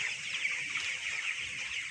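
Chickens in a poultry farm shed on a hot night make a dense, continuous clucking din, a steady hiss-like chorus with no clear pauses and no voices.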